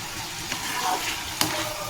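Chicken coated in ginger garlic paste fries with onions in a pan and gets stirred, a steady close sizzle broken by two brief scraping clinks of the spoon.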